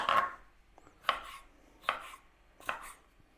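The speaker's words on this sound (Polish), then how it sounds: "Śliwki kroję taką niezbyt grubą kostkę." A knife chops plums into small cubes on a cutting board, four crisp evenly spaced chops with no one speaking.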